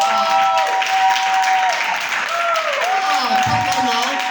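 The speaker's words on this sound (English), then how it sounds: "Can we give that a round of applause?" An audience gives a round of applause for a newly published author, a steady wash of clapping carried under voices and pitched vocal sounds throughout.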